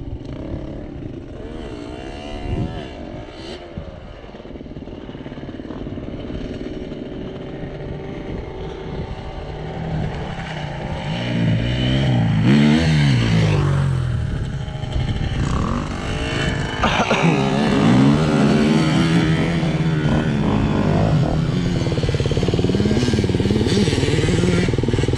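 A Honda CR125 two-stroke motorcycle engine runs and revs up repeatedly, rising and falling in pitch, loud and close and getting louder in the second half, with no clear talking over it.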